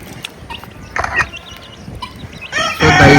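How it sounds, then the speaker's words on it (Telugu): Guinea fowl give harsh, rapid chattering calls in short bursts, growing louder toward the end, against a noisy outdoor background. "గిన్నె కోడ్లు ఏవైతే ఉంటాయో మీకు బ్యాక్ సైడ్ కనిపిస్తున్నాయి గిన్నె కోడ్లు"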